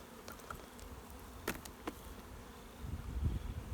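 Honey bees buzz faintly around a nuc hive during transfer to a standard hive body, soft scattered insect hum with a few brief closer passes.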